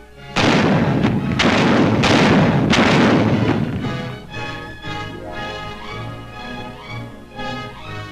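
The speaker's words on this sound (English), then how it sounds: "He was a man in the air, directing a man on the ground where the artillery should fire." Artillery fire in a 1945 wartime newsreel, heavy booming blasts rolling in a dense run, then a softer, sustained rumble with tonal music-like layers underneath, loud and without talk.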